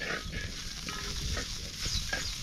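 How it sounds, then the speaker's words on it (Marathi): Seeds from a wild vegetable sautéing in a hot pan, with a steady close sizzle and repeated scraping stirs for a few seconds. No one speaks. "एवढं दाणं आपण टाकून आधी परतून घेऊ चांगलं"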